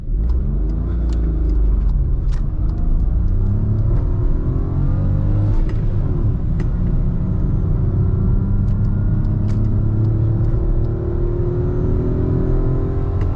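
A 1.0-litre naturally aspirated car pulling away on a steep hill start climbs in loud, steady engine rumble with rising revs, heard close and continuous throughout, with no talking.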